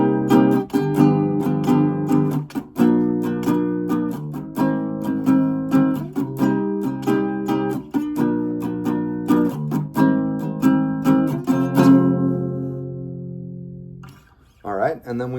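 Electric guitar playing the transition phrase from a Tiny Desk arrangement, a run of steady strummed chords with clear sustained notes, loud and close, ringing out near the end before a brief pause and a final short strum.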